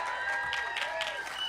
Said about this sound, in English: So let's give a round of applause for everyone here.